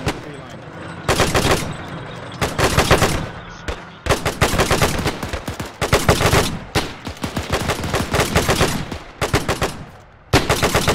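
Rapid automatic and rifle gunfire in Arma 3 during a WWII-era night contact in a British milsim, with loud, dense bursts repeating one after another and brief gaps between volleys.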